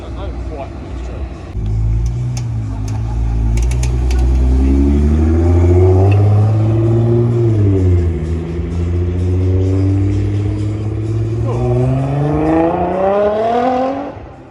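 A car engine revs loudly at a car show, the pitch climbing and falling in long sweeps over a deep throaty drone, close and continuous, then rising sharply before cutting off.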